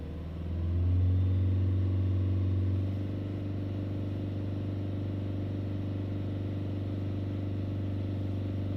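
A Fiat Linea diesel car engine runs during an injector fuel pressure test, a loud rev swelling briefly before settling into a steady, low, close idle hum with no talking.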